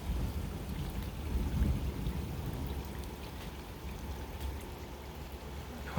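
Steady early-morning rain pours through a season's first thunderstorm, with low rumbling thunder swelling and fading beneath the dense wash of rainfall, continuous and fairly near.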